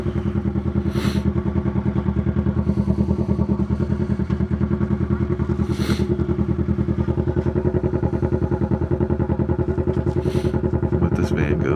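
A Kawasaki Ninja 650 motorcycle engine drones steadily while riding, a loud, continuous rapid pulsing with wind buffeting and muffled rider speech over it.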